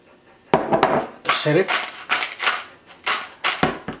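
Homemade salted french fries tossed in a bowl, giving a run of light clattering, scraping knocks in an uneven rhythm, close and fairly soft, with a voice speaking in between.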